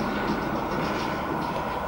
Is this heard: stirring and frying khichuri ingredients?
no